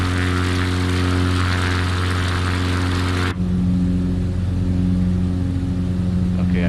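Propeller aircraft drone in Flight Simulator 2020 on a backcountry bush fly-in, a steady loud engine hum with strong low harmonic tones that shifts character abruptly midway, continuing without talk.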